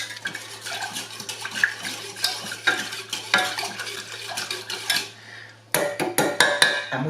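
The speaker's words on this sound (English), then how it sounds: "So I'm going to stir all the ingredients together." A utensil scrapes and clinks in a pot as sweet and sour sauce ingredients are stirred together, with repeated close scraping strokes, a brief pause, then quicker stirring.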